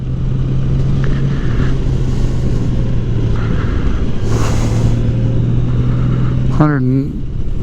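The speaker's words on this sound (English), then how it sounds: "Just out driving on the salt flats." A vehicle drives across the salt flats with a steady, close engine rumble and low hum, a rising whine swelling near the end, while a voice talks over it.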